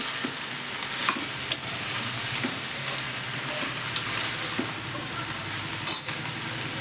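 Mixed vegetables fry in a generous amount of oil with a continuous close sizzle, punctuated by occasional scrapes and taps of a spoon stirring in the pan.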